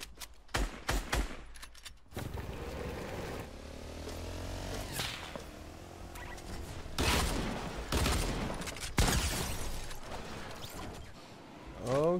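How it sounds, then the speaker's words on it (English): Gunfire in a solo arena match of a shooting video game: sharp rapid bursts crack out at the start, then more volleys and impacts over mechanical game noise, with a player speaking briefly. "Who else is shooting me, bro?"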